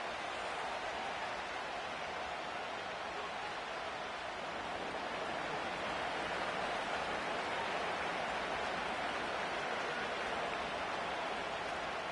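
Rain pours onto the field at M&T Bank Stadium in Baltimore during a football game, a continuous even hiss of falling water heard alone at moderate volume throughout.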